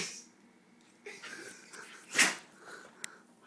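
A dog gives one sharp, sudden sneeze midway through, a brief loud burst with softer snuffling breaths around it, heard up close in a quiet room.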